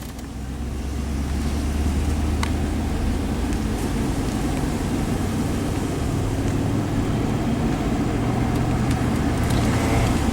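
Inside a 1999 Chevy Suburban on a test drive after a transmission solenoid valve replacement, a continuous engine and road rumble builds in the first second, then stays loud and steady without speech.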